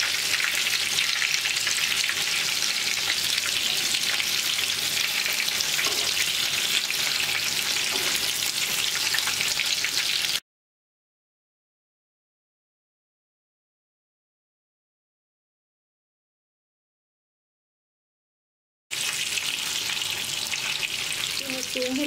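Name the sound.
crispy chicken frying in oil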